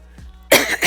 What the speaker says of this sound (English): why am I coughing again? Oh no.